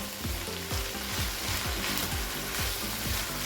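Keema, minced meat, frying in a covered pan and letting out its own water, giving a steady loud sizzle and crackle with recurring soft pops and rattles, no voices.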